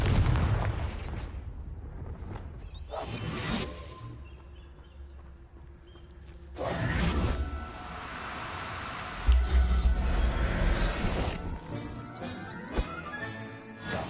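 A Confringo fire spell going off in Hogwarts Legacy, a loud booming blast with a rumbling tail, followed by further impacts and clattering game effects.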